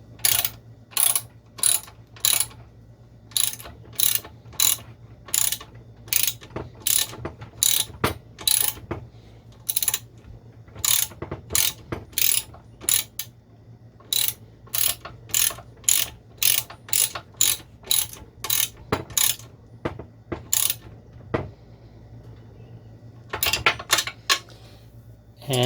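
A ratchet clicks steadily while tightening control arm bolts on a 1977 C3 Corvette, loud close rapid bursts of pawl clicks repeating in a regular back-and-forth rhythm for the whole stretch, with brief pauses between swings.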